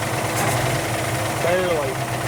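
An auction racecar engine idling roughly with one cylinder not firing, a loud uneven rumble with a brief higher whine, while a person talks nearby.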